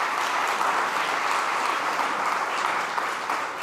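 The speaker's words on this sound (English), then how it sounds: "Please give him a round of applause." Steady, dense applause from a conference audience at a food summit, continuous and even throughout with no speech over it.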